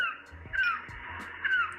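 Two short descending gull cries played by an LED ocean-effect night lamp, electronic and slightly thin, over a steady background hum with a few low thumps.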